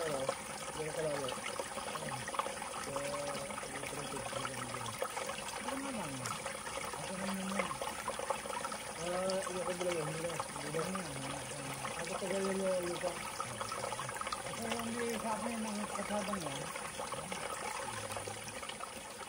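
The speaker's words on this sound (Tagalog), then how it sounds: "Ito po ang batis na dikit po mismo sa property" A small stream trickles and gurgles steadily beside a farm property in Tanay, Rizal. The water is continuous and low in level, with faint bubbling patterns throughout.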